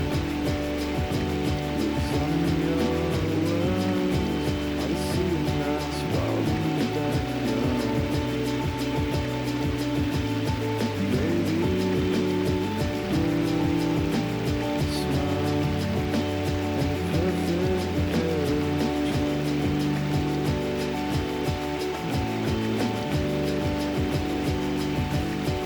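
Mountain brook in the Smokies along the Newfound Gap, a steady broad rush of flowing water, constant and fairly close, with no voices over it.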